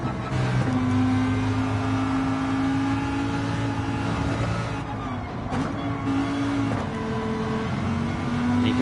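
A race car engine in Gran Turismo 7, heard close and loud as a sustained, droning tone that drops briefly as it short-shifts into fifth gear, then holds steady.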